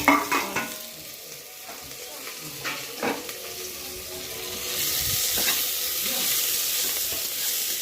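Coriander and curry leaves sautéing in a pan for spinach-stem soup give a steady sizzle, with stirring clatters near the start and a brighter frying hiss building in the second half, no talk.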